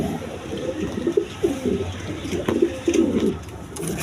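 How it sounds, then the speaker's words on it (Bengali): A pair of king pigeons coo in low, throaty bursts, several repeated phrases over a few seconds, close by against a soft background hiss. "দর্শকবৃন্দ এখানে এক পেয়ার কবুতর আছে, দেখেন কিং কবুতর"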